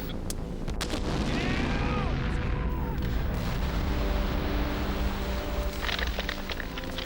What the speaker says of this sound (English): The blast goes off as planned, lifting tons of loose rock right off the hillside.